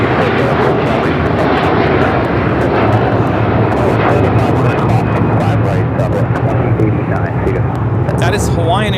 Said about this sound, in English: That is Hawaiian Airlines Flight 3 taking off to Honolulu on the A330-200